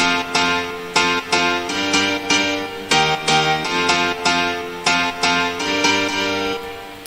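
Two layered piano chord parts, a bright piano and a lower Nexus grand piano, play together in a house drop as rhythmic repeated chord stabs, full and loud throughout.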